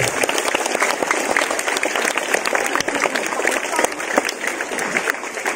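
Sustained dense applause from a crowd of school students at SMP Negeri 2, an even, loud roar of many hands clapping without pause, with faint voices mixed in.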